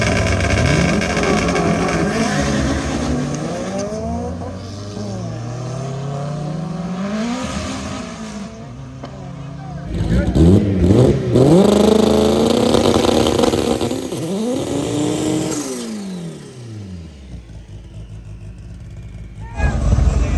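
Revving engines from a twin-engine Honda Prelude and a Honda CR-V at a birthday surprise gathering, loud throaty rises and falls of throttle, with a sharp burst around the midpoint, under people talking.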